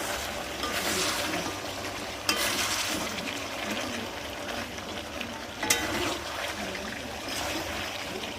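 Meat and sliced tomato fry in a pan with a steady, close sizzle and crackle that runs throughout, broken by a couple of sharp clicks.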